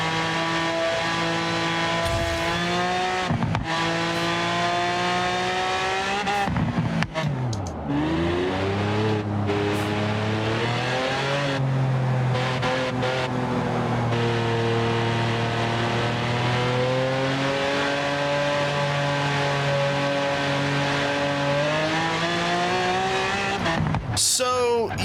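A race car engine in Forza Horizon 3 screams at full throttle, climbing through rising gear-change sweeps with a brief drop and recovery partway, loud and continuous, with tire noise under the drone and no talk.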